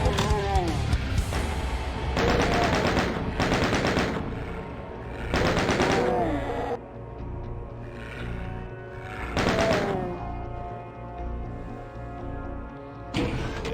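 Bursts of chaingunner machine-gun fire in the video game Doom, several loud rapid volleys separated by short gaps, over a steady game music backdrop with occasional monster roars.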